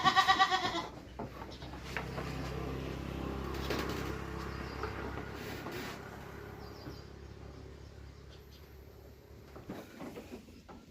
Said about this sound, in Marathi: आता हा बोकड बघा मोठा बोकड आहे